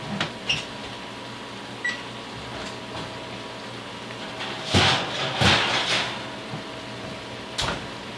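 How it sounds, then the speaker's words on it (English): An oven being switched on and set to preheat to 375 in a home kitchen gives a few scattered clicks and knocks over a low steady hum, with a cluster of louder clacks near the middle and one more toward the end. "Let me turn my oven on."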